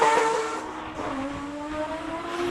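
A Mazda RX-7 race car at the Cape Town Speed Classic hillclimb screams past, its rising and falling engine whine sweeping through the gears before settling into a steady high drone.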